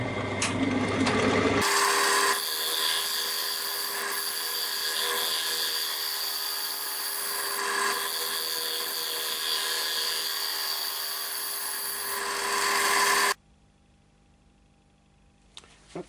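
Sanding the inside of a tulipwood bowl spinning on a lathe gives a steady, loud abrasive whir with a hum beneath that runs for about twelve seconds, then stops abruptly, leaving a quiet room.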